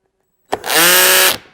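Cordless drill from Amazon spinning up after a moment of silence, a loud close whine held steady for about a second before cutting off abruptly.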